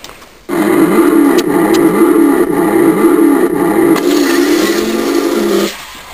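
Funny cars launching at a dragstrip, a sudden loud roar that holds for about five seconds with a pulsing, rising engine note before cutting off sharply.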